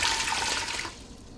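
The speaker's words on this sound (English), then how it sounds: "I'm going to put in 2 cups of water with the lentils." Water pours from a container into a Ninja Foodi XL pressure cooker pot over lentils, a rushing splash for about a second that then cuts off, with no talk.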